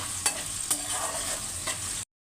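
Salted potato pieces are mixed in a hot pan for sago khichdi, a constant sizzle broken by three quick spatula scrapes before the sound cuts off abruptly.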